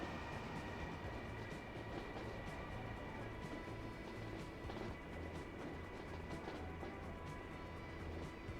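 A train runs in the Transport Fever 2 simulation on a Northern UK line near Gainsborough, giving a steady rumbling roll with rhythmic clickety-clack over the rails and a faint mechanical hum, continuous and moderately distant throughout.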